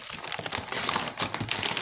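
Military ration packet from Ukrainian armed forces field rations being handled up close, giving continuous plastic crinkling and rustling with no talk.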